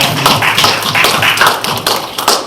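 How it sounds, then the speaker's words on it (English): A meeting audience gives a round of applause to welcome a new board member, a steady, fairly loud stretch of many hands clapping close by with no voices over it. "I'd like you to give a round of applause"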